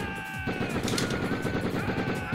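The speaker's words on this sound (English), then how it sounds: "it does allow you to just go absolutely haywire with a pistol" Rapid pistol gunfire in Die Hard Trilogy, shots cracking out in a fast continuous stream, loud and close over steady game background tones.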